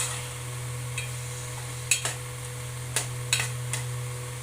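Small brinjal curry stirred in a pan over a low flame, with a few soft scraping clicks from the spoon against the pan over a steady low hum.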